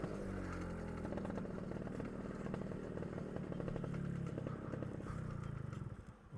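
A moped engine runs steadily and fairly close on a Corsica road trip, its mid-pitched motor droning with a busy, rattling texture throughout and no clear break.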